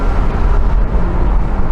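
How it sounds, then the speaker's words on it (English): A Lotus sports car engine drives nearby, a loud, heavy low rumble with a steady roaring drone that stays strong and even throughout. "Most of the audio that you can hear in this section is actually Rob's Lotus."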